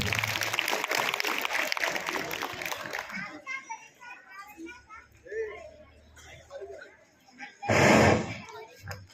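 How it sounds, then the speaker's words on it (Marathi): Schoolchildren applauding at a morning assembly, starting as a loud burst of clapping and chatter, then fading into murmurs before a second short, dense round of clapping near the end. "या परिपाठासाठी जोरदार टाळ्या झाल्या पाहिजेत."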